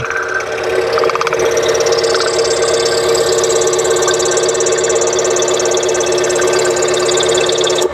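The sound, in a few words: Harbor Freight scroll saw cutting a small jigsaw piece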